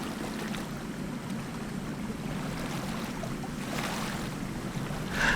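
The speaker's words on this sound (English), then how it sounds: "even by simply hearing the lapping of the water" Water lapping gently in New Orleans, a soft steady wash with faint splashy ripples and a slightly stronger surge near the end, quiet and ambient with no voices.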